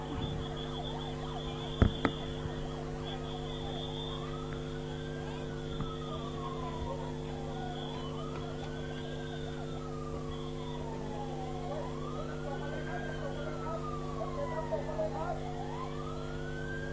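An ambulance siren wails in repeated rising and falling sweeps, moderately distant, over a steady mechanical drone, with a sharp knock near the start.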